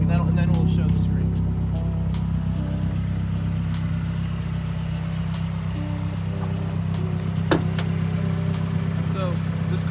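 A Mazdaspeed3's 2.3-liter inline-four engine idles steadily with a low, even hum, close by, while people talk over it.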